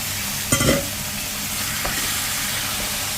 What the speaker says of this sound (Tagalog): Igisa-gisa natin yan hanggang sa lumambot mga bossing.